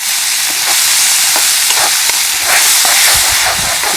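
Garlic, onion and tomato fry for a crab curry on a wood-fired stove, giving a loud, dense hiss of steam and sizzling with scattered stirring clatters, close by and without talk.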